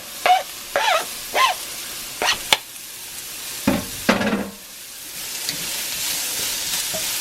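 Garlic dropped into hot bacon fat in a cast iron pan, crackling in short sizzling bursts with clattering stirs, then settling into a steady soft fry.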